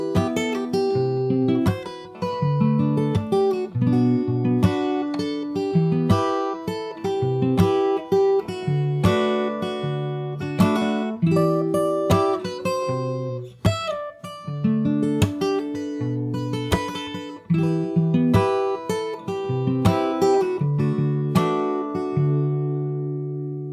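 Fingerstyle acoustic guitar plays the second verse of a song, with plucked melody notes over a steady bass pattern and rhythmic picking, played alone, clear and close, for over twenty seconds.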